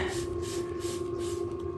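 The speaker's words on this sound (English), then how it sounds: "Let's spray that chain down a little bit." Short bursts of aerosol rust remover spray hiss in quick succession onto a rusty gym equipment chain over a steady background hum, up close.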